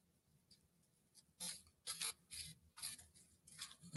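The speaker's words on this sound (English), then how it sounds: "So I'm shuffling the angel tarot cards" Angel tarot cards shuffled by hand, a handful of soft, brief papery riffles and slides spaced through otherwise near-silent air, ending with a sharp louder click.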